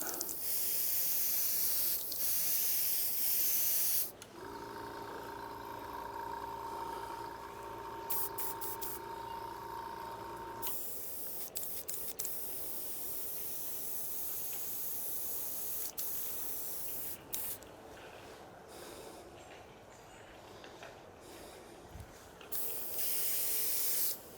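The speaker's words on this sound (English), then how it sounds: "using my airbrush, we're just going to apply a nice base coat." An airbrush sprays a base coat in a steady hiss that comes and goes in bursts over about twenty seconds, with a compressor-like hum during one stretch and no talking.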